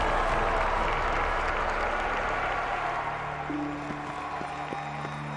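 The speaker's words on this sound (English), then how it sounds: "Final round of applause as she dies." Steady applause from a large crowd in an amphitheater in The Witcher 3: Blood and Wine fills the space, a dense continuous clapping that fades slightly while a low musical tone begins underneath.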